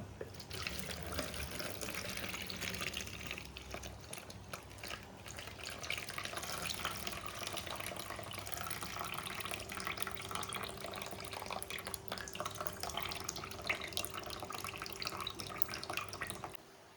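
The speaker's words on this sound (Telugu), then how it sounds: "ఇప్పుడు మనం నానబెట్టుకున్న రైస్ని ఫస్ట్ ఈ వాటర్ని ఒక దాంట్లోకి రిమూవ్ చేసుకుందాం" Water poured off soaked rice into another vessel: a continuous splashing, trickling stream of moderate loudness running steadily for the whole stretch, with faint drips mixed in.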